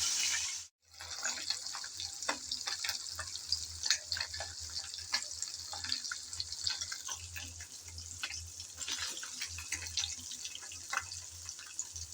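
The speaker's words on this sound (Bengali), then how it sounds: "তেল গরম হয়ে যাওয়ার পর একটা একটা করে মাছ আমি তেলে দিয়ে ভেজে নিচ্ছি।" Small sea fish sizzle one by one in hot oil in a pan, a soft, steady crackle and hiss with scattered pops, fairly quiet and continuous, no voices.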